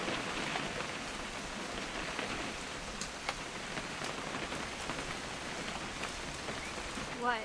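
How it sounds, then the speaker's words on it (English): Steady rain falls in the video game What Remains of Edith Finch, a soft, even hiss of drops on surfaces that continues for the whole stretch, with faint voices underneath. "It's gonna rain the whole weekend"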